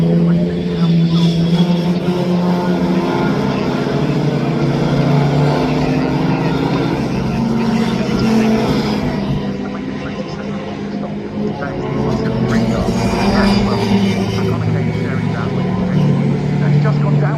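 Classic racing cars roar around the Brands Hatch circuit, a steady loud engine drone with shifting pitch as cars pass close, under continuous race commentary.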